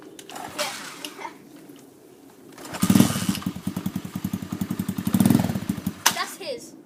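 A cold dirt bike engine is kicked over and catches, sputtering into a rapid buzzing run that swells and fades twice before cutting out, with people talking around it.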